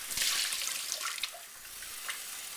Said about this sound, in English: I usually just keep my bowl under here and then just pour the water over it a few times